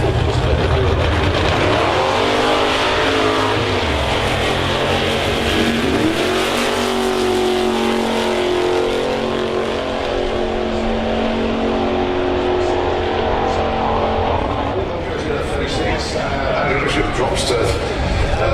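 Nostalgia superstock drag racing cars accelerate with a loud, continuous engine roar and revving that fills the whole stretch, with voices mixed into the din.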